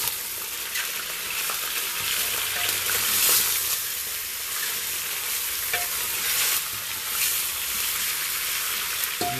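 Steady, loud sizzling of crispy-fried chicken frying in oil in a pot, with scraping and clattering as it's stirred, continuous throughout with no talking.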